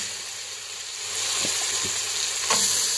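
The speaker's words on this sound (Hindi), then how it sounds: "हमने बीफ को ऐड करके इसे अच्छी तरह से भून लेना है 5 से 7 मिनट" Beef frying in a pan with browned garlic sizzles steadily and close by, with a brief stir or scrape near the end and no talking.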